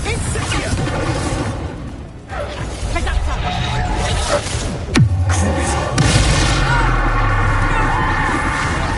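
Magic spell blasts from the Hogwarts Legacy video game, the Bombarda and Incendio spells, give booming whooshes and crashes, with a sharp burst near the middle, over loud continuous game sound and a player's voice.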